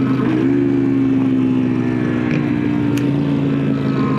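Steady, loud motorcycle engine drone while riding, a continuous low hum with a slight pitch rise near the start, holding even throughout with wind-like noise.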